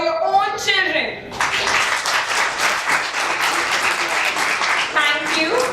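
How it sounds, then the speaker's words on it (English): An audience applauds children at a kids' public-speaking talent event, with a dense, sustained burst of clapping that starts right after a spoken line and continues under brief talk near the end. "I want a big round of applause for your own children."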